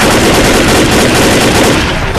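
Sustained loud gunfire blasting at zombies in the Left 4 Dead Xbox 360 game, a dense continuous barrage with no pauses across the whole stretch.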